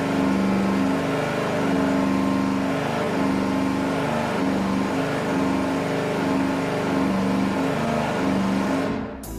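V8 engine held at a steady 3,000 RPM on a dyno, a loud, continuous droning roar with strong low harmonics that stays constant before cutting off abruptly at the end.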